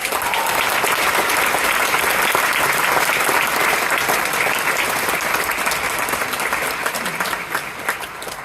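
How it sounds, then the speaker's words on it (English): A graduation ceremony audience at AUP gives a sustained round of applause, with dense, even clapping from a large crowd that holds steady and tapers slightly toward the end. "we'll give her a round of applause"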